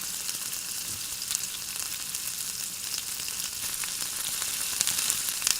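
Continuous close frying sizzle from a pan where food sautés with turmeric powder and salt, an even crackling hiss with a few small pops. No voices.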